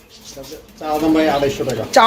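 Large black king pigeons coo at close range, with soft throaty warbling under a voice speaking over them.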